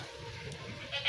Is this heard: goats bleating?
yes